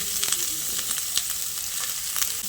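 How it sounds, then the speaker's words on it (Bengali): Chopped eggplant and flat beans go into a frying pan of potatoes, radish and pumpkin for a spinach ghonto, giving a loud, steady sizzle with scattered crackles and stirring scrapes. "এবার আমি কেটে রাখা বেগুন আর শিমটা দিয়ে দিচ্ছি।"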